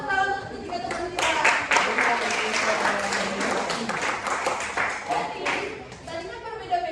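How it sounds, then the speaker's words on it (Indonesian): A classroom of students claps for three classmates, a burst of lively scattered applause lasting several seconds, with voices chattering over it. "kasih tepuk tangan untuk ketiga teman kita"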